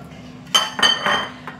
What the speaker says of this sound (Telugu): శనగలు వేసుకున్నాం కదా, ఇలాగే అటుకులు కూడా వేసేద్దాం.